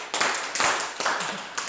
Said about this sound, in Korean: 자, 우리 한번 박수 세 번만 시작!